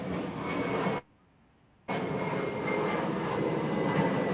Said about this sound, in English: I hear a plane landing.